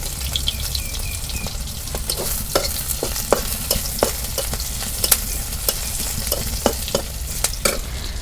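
Cumin seeds frying in hot oil in a pan for a Bangladeshi fish curry, a dense steady sizzle with scattered sharp crackles and pops from the seeds, close and loud.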